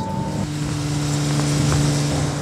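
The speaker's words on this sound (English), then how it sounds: "It's got a lovely engine note, hasn't it?" A Porsche flat-six engine, 2.6 litre on 40 Weber carburettors, holds a steady, loud droning note from inside the moving car, with no talk over it.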